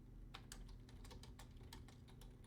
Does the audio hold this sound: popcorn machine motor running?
no